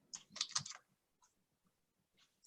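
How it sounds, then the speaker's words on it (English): A short search is typed on a computer keyboard: a quick, close cluster of key taps, then a pause with a couple of isolated faint clicks, and one more tap at the end. "you can just type in PVMU"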